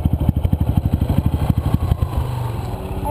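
An off-road dirt bike runs along a hillside single-track trail in first gear, its engine chugging close and loud in a fast, even pulse before easing into a smoother, lower drone.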